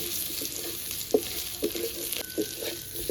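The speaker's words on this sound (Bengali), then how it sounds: "আলু আর ওলটা দিয়ে ভালো করে আর একটু ভেজে নেব" Potato and elephant foot yam pieces frying in oil with cumin, a soft continuous sizzle with several distinct spoon or spatula clacks and scrapes against the pan, close by and without talk.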